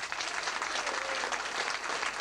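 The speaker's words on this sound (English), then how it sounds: "a round of applause for one of the pioneers of country music just in this area" A club crowd at a country music awards night breaks into steady, dense applause, a brief continuous wash of clapping hands with no voices on top.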